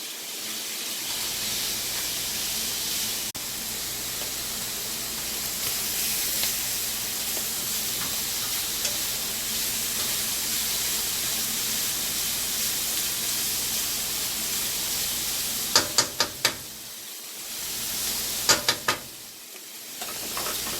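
Garlic and seasoning cooking in a pan on medium heat give a steady, even sizzle and hiss, with a few sharp clicks of a utensil near the end before the sizzle dips; no talk.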